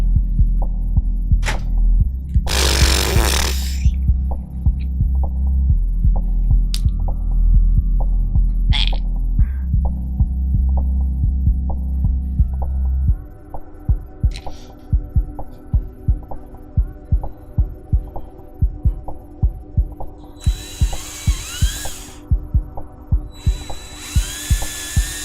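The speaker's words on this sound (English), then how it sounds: "Let's take the drill." A cordless power drill with a hex bit driving into a module part, running in a steady throbbing hum with rhythmic pulsing pulses, a few sharper bursts of higher whine, close and loud with no talking.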